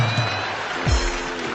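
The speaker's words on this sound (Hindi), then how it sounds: "ये सिर्फ वे लोग तालियां बजा रहे हैं जिनके घर में लगी हुई है" A comedy show audience breaks into a short burst of applause: a brief, moderately loud spatter of clapping with a voice faintly underneath.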